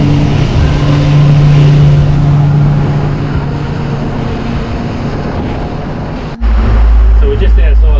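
Fishing boat cruising at about 23 knots, with a loud steady engine drone, hull and water rush, and heavy wind buffeting on the microphone throughout, a voice talking over it.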